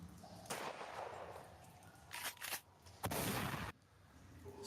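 Gunfire exchanged outside a cave during a Call of Cthulhu tabletop horror role-playing session, heard as a few loud bursts and cracks separated by quieter stretches.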